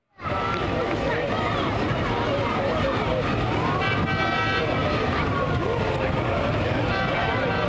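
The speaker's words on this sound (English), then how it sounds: "Truck number 4 is a pumper." A fire department pumper truck rolling in a small-town parade, its siren wailing and horn tooting loud and close over a dense roar of engine and street noise.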